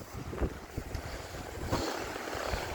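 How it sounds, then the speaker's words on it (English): Creek water flowing beneath someone in an Australian bush setting, a steady broadband wash with soft splashes and gusty wind buffeting the microphone throughout, no talking. "the water's flowing underneath me"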